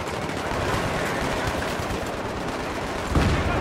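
Rapid gunfire in Battlefield 3 multiplayer on the Grand Bazaar map, a dense continuous rattle of automatic weapons, loud and steady, with a heavier burst near the end.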